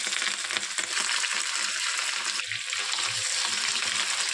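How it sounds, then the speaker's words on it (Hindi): Fish fries in hot oil in a pan over low flame, giving a loud, dense, continuous crackling sizzle that stays close and steady throughout, with a few faint clinks underneath. "अब मैं यहाँ पे मछली को फ्राई करके ले लूँगी"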